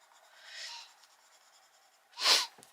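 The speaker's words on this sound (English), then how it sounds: "Oh, excuse me sniffing." A person with a cold sniffs close up: a soft, breathy sniff, then after a pause a sharp, louder sniff, with no talking.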